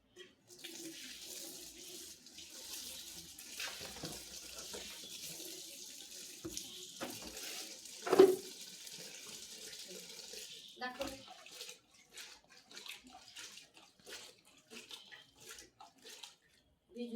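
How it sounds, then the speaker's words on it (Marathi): Tap water runs into a basin while wild mushrooms are soaked and washed, a steady splashing stream with sloshing and handling noises and one sharp knock midway, then broken, intermittent splashes. "आता मी पाण्यामध्ये टाकणार आणि भिजतील, मग धुणार."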